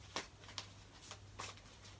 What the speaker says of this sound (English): Sorry, still shuffling.